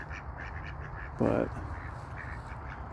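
Ducks on a farm quack in one loud, close burst of about a quarter second partway through, over steady background noise with a voice speaking briefly.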